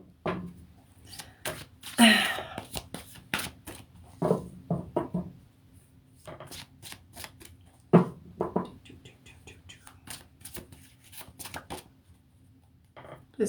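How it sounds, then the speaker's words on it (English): Tarot cards being shuffled by hand to pull a card, a run of soft papery riffles and taps at close range, with louder bursts now and then and no talk. "Actually, I'm going to pull a card for you"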